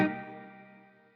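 A single tone rings out through the Yonac Zodiak tape delay plugin with reverb applied, starting with a sharp attack and then a sustained, harmonically rich tail that fades slowly and smoothly over about a second, with no voices.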